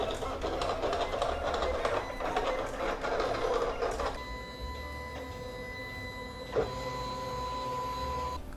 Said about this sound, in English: Okay, our vinyl cutter is ready.